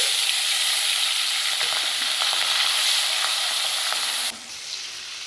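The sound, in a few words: fish frying in oil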